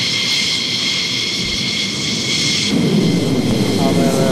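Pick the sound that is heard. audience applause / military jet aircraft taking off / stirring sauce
military jet aircraft taking off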